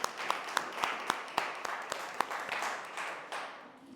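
A church congregation at a Sunday service applauds, sharp individual claps ringing out over a steady wash of clapping that gradually fades.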